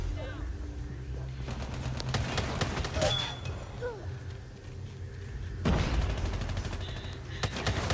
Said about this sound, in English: Wait, what gun is this? Oh, it's the speed shotgun.